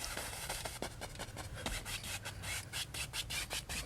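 Bristly paintbrush rubbing in short crisscross strokes across canvas while painting a small lake scene, a steady scratchy swishing with a quick repeated rhythm, close and fairly quiet.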